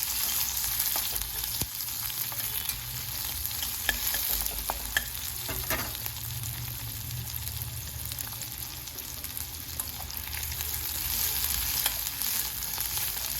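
Onions and curry leaves sautéing steadily in a pan, a continuous close sizzle with occasional stirring scrapes and clicks throughout.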